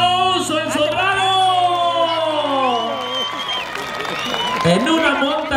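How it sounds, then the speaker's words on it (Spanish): A crowd at a jaripeo bull riding event during the Fiesta del Sobrado cheers and applauds, with loud whoops and sustained shouting voices rising above a steady background of clapping. "Ese aplauso, la entrega del público."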